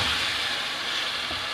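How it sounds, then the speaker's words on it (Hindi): Tomatoes and chicken with fenugreek and red chilli cooking in a pan for a methi gosht curry, giving a steady close sizzle with light stirring, and a brief clatter near the end. "अब इन सब को हम 3-4 मिनट के लिए पका लेंगे।"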